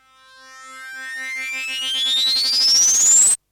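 A synth transition tone in Logic Pro X sweeps steadily upward in pitch and swells in loudness over about three seconds, then cuts off abruptly, leaving a brief convolution reverb tail.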